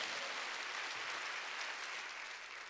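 Congregation applauding during a Wednesday church worship service, a dense steady wash of clapping from many hands, fairly distant and even, fading slightly at the end.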